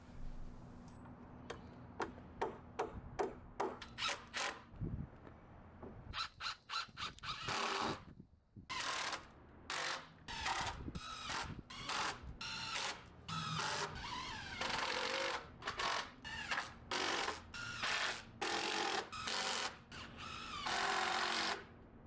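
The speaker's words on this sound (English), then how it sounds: "I came back and put screws in on all the joists" A power drill driving screws into the wooden floor joists of a shed, with repeated whirring bursts of varying length separated by short pauses, close and clear with no talk.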